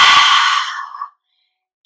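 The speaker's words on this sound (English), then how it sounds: "keep on exhaling with your tongue fully out" A forceful yoga breathing exhale with the tongue fully out, a single loud, close, breathy rush of air that fades out over about a second, followed by silence.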